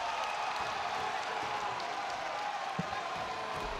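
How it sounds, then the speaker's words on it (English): A large crowd at a Halo esports tournament in Salt Lake City roars and applauds in a dense, steady wash of cheering that holds at an even level throughout. "Much to the delight of the crowd here in Salt Lake City."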